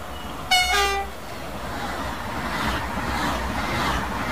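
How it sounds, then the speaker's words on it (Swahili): A French TGV Duplex high-speed electric train sounds a short, loud horn blast. A steady rushing rumble follows as it runs past and keeps going. "Treni inayofuata inaitwa TGV duplex, iko Ufaransa."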